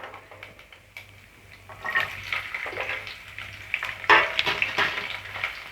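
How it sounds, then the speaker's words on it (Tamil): Fennel seeds and garlic hitting hot oil in a pan, with quiet stirring at first and then a louder, crackling sizzle that swells and spikes as the ingredients fry, with no talking. "எண்ணெய் சூடாயிடுச்சு இப்போ நம்ம சோம்பு சேர்த்துப்போம் இப்போ நம்ம பூண்டை சேர்த்துப்போம்"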